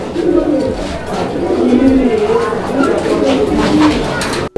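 Several pigeons in a pigeon shop coo close by, their low rolling calls overlapping loudly while someone speaks over them.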